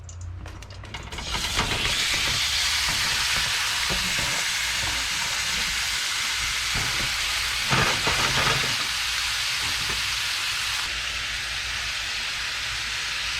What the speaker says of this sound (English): we're going to go ahead and add our beef and then salt and pepper to season this up, and then fry it up 10-15 minutes